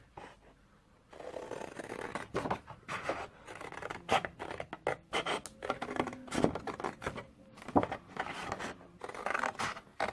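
Scissors cutting paper for a small Halloween flip book, a busy run of close, crisp snips and paper rustles after a brief quiet start.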